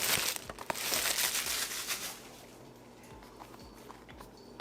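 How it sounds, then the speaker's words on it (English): Plastic wrapping is torn and crinkled off a OnePlus 6T phone box, a loud rustling burst for about two seconds, then quieter handling and small crackles up close. "Take off all this plastic and see what's inside."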